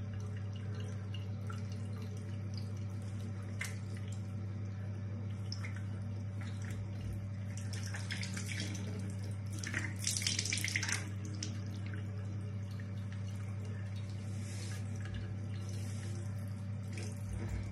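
Cool tap water runs into a sink while a face is rinsed during a skincare routine. The soft, steady splashing is faint, with a low electrical hum underneath.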